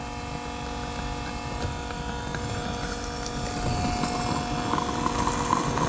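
A diesel transfer pump on a 58-gallon Vevor transfer tank moves off-road diesel fuel, giving a steady, close motor hum and whine that runs unbroken and builds slightly louder toward the end.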